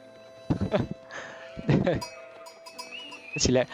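Sheep bleat in a medieval strategy video game: three separate, loud, wavering calls spaced about a second apart over a quiet background, with faint high chimes between them.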